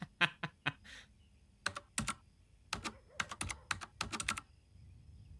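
Keyboard typing in a video store simulator game: a burst of crisp, close key clicks in an irregular rhythm, a few quick taps, then denser runs of keystrokes, with no talking.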